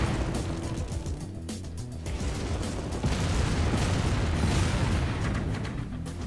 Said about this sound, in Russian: по ним так хорошо заряжает артиллерия